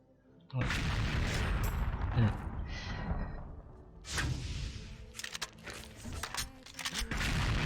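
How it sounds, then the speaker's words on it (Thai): Booming explosions and bursts of gunfire from a video game, loud and repeated, with sharp blasts clustered near the start and again later. "โอ้ย ระเบิด"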